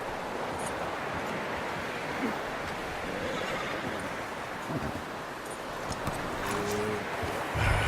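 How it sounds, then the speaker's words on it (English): A horse whinnies in the video game Red Dead Redemption 2 amid steady outdoor ambience, a rustling, surf-like wash with faint hoof movement, no one speaking. "You should really tether that horse, Arthur."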